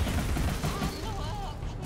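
Enemy gunfire in the action game Alice: Madness Returns, a dense rumbling barrage of booms and blasts under a busy mix of game effects with whistling tones, steady and loud throughout.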